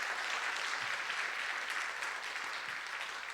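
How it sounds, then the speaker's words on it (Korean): Church congregation applauding after a choir's praise song at an Easter Sunday service, a steady, even wash of many hands clapping from a distance, sustained throughout. "우리 다시 한번 박수 한번 하시겠습니다"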